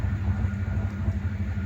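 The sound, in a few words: train passing in the distance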